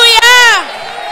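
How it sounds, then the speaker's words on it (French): A church congregation at a morning service cheers and applauds for Jesus: a loud, sustained raised voice or shout that falls away into a broad wash of clapping and crowd noise. "Est-ce qu'on peut donner une bonne main d'acclamation à Jésus ce matin?"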